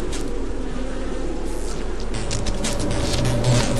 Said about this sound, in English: I hear bees! Bees! Yeah, I hear bees too! I hear bees!